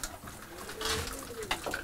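Young racing pigeons coo in a loft at feeding time, soft low throaty murmurs close by, with faint splashing in the background.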